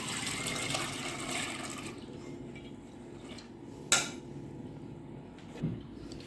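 Soaked, washed chana dal tipped into a pressure cooker, a wet pouring rush of grains and water for a couple of seconds, then quieter shuffling with two sharp metallic clinks of the pot or spoon.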